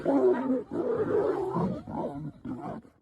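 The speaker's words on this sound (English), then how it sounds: "The lioness growls at him and attacks him with her claws." A lioness growls and roars in a long, rough, throaty burst while attacking a male lion, then follows with shorter snarling bursts, close and loud with no talk.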